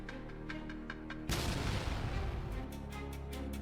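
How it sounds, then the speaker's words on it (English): An FPV drone strike on Ukrainian territory sets off a single loud, close explosion: a sudden sharp blast followed by a dense rolling rumble, with no voices. "it resulted in a powerful explosion"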